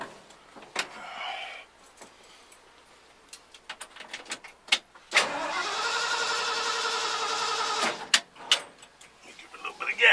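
A carbureted Ford F-100 pickup engine cranks and catches after keys jangle and a door clunks, then settles into a steady, loud idle for a few seconds before clicks and handling noises follow; faint talk is audible early.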